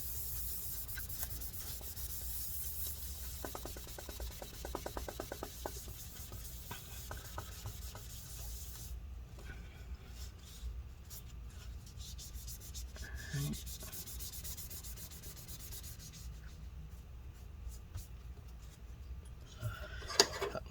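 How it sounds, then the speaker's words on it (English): A paper towel soaked in rubbing alcohol scrubs adhesive off a 13-inch Late 2013 Retina MacBook Pro A1502, giving a steady, close, quiet rubbing with faster bursts of strokes and no talk. "Same thing, just load it up with rubbing alcohol, and then we're going to clean this off."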